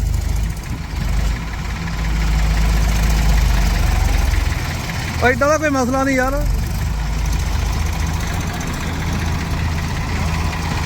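A new tractor's steady low engine rumble idles throughout, with someone briefly talking over it midway.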